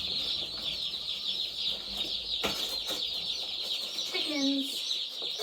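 Meat bird chicks on their first day on the farm, a continuous high chorus of peeping from many chicks close by, with a brief clatter partway through and a voice briefly heard.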